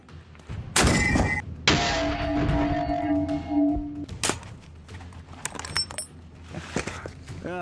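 Soviet World War 2 PTRD 14.5mm anti-tank rifle fired at 20mm IFV steel, with loud close blasts, a ringing metallic impact and a long resonant tone, then scattered clanks and rattles.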